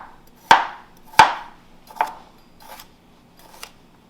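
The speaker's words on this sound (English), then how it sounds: "We're just going to chop our carrots." Knife chopping carrots on a cutting board for vegetable stock, five crisp separate chops spaced about half a second to a second apart, the first two loudest and the rest fading softer; close, with no talking.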